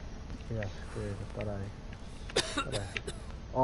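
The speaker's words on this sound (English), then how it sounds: "Oh, now you're coughing?" A person coughs and clears their throat several times, fairly faint and mixed with talking, over voice chat during a DayZ game session.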